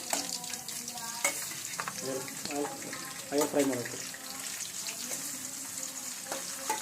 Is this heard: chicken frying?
yes